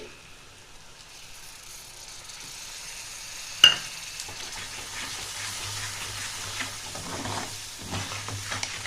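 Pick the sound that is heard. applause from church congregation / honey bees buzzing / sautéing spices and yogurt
sautéing spices and yogurt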